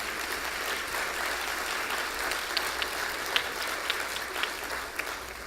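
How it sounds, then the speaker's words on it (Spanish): An audience claps at an education symposium, giving a steady round of applause of moderate loudness, with a few sharper individual claps standing out toward the end. "Aquí les iban a dar un aplauso, no se detengan, denles un aplauso"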